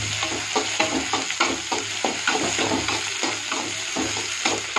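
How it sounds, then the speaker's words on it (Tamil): Onions and tomatoes sautéing in a pan for a brinjal stir-fry, a loud continuous sizzle with regular scraping strokes of a spatula roughly twice a second, close and alone. "நல்லா வதக்கணும்"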